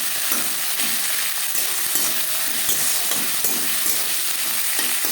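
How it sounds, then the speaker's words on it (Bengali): Tomatoes frying lightly in a pan for Bengali chana dal, giving a steady, fairly loud sizzle and hiss throughout with faint irregular stirring taps underneath, close by and without speech. "টমেটো হালকা করে ভেজে নেব"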